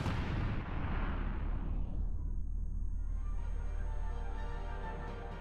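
A GBU-43/B Mother of All Bombs explodes in Achin, Afghanistan, heard as a deep, heavy blast whose rumbling boom swells and then slowly decays over several seconds, with no voices present.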